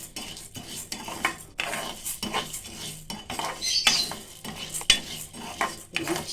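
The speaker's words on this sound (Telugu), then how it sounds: "ఇవి 2 మంచిగా వేయించాలండి" Urad dal (black gram) being dry-roasted in a pan, with repeated clinks and scrapes of a metal spoon against the pan in an irregular rhythm, close by and without talking.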